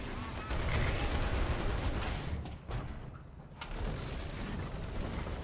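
Artillery strike in War Thunder during a Sherman tank match, a dense rumbling barrage of rapid distant impacts and gunfire running through the whole stretch at moderate loudness.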